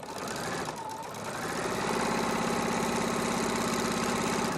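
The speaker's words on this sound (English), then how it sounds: "I'm going to start at the bottom and sew all the way up, 1/4 of an inch." A sewing machine stitches a fabric face mask, running steadily and close up with a fast, even mechanical rattle that speeds up and holds continuous, with no talking.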